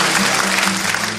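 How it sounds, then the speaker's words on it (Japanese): Dense, steady applause from a live audience at a folk song performance fills the whole moment, loud and continuous with no voices over it. "温かいご同情の拍手をありがとうございます"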